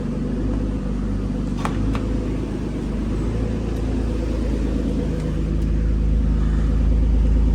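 Twin-turbo Infiniti G35 engine idling at its first start-up after a turbo install on a very high-mileage car, a steady close, loud low rumble that grows slightly heavier toward the end.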